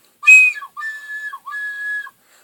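A recorder with finger holes not fully covered gives three shrill, whistly squeaks in a row, close and clear against silence, the first one the loudest.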